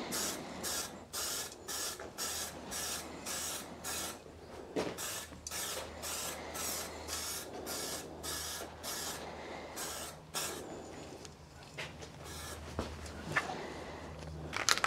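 A paint spray gun applying a high-temperature paint coat, delivered in rapid repeated short hissing bursts with brief gaps, then fewer, longer sprays, a quiet mechanical hum underneath and no speech.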